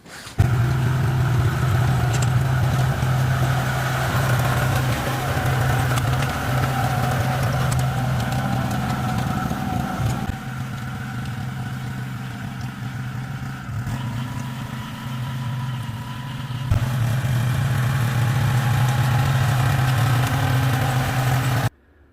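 A farm tractor engine idles steadily before rotary tilling for potato and pepper beds, a loud, continuous low rumble close by with a slight dip midway and no talking.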